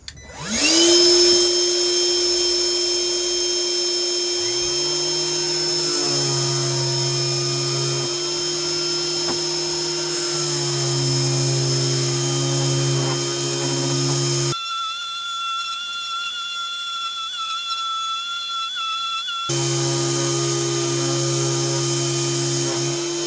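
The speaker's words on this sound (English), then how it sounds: "we're going to try the random orbital sander, the R18 ROS attached to the Ryobi shop vac" A Ryobi R18 18V One+ random orbital sander runs attached to a Ryobi shop vac, the combined motors producing a loud continuous whine and hum that shifts pitch briefly midway before settling back.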